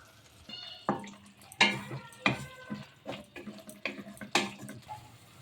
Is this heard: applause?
no